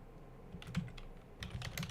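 Soft typing on a computer keyboard during coding, two quick clusters of light key clicks, close and quiet, with no talk over them.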